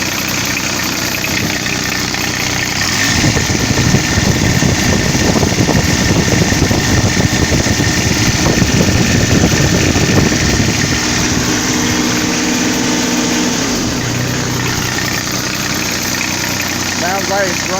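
Diesel engine of a 2007 Toro 3500D Sidewinder mower idles steadily and loudly up close, a constant rough rumble with slight knocking that continues throughout after a fuel filter replacement.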